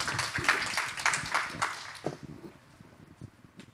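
An audience claps to welcome a CEO to the stage at a conference on smart goose farming. A burst of scattered, moderately loud applause thins out and fades after about two seconds.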